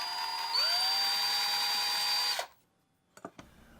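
A power drill drilling a pilot hole whines at high speed for about two seconds, pitch rising as it spins up, then cuts off, followed by a couple of small clicks.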